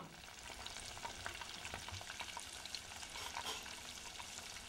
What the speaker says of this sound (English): We're going to go ahead and drop our prawns into the oil.